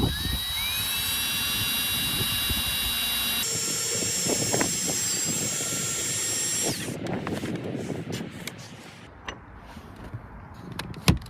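Power drill boring a center hole for a holster mount, high steady whine with a pitch shift partway, then spinning down into scattered clicks and handling noises.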